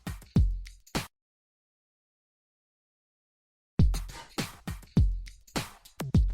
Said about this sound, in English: It's just that hit that you hear of the hat